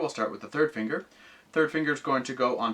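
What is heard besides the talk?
No distinct noise like a dog, phone or traffic.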